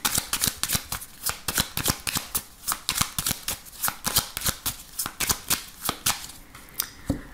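A 32-card deck being riffled and shuffled for a card reading, a close, steady series of sharp papery bursts repeating about every quarter second with brief pauses between.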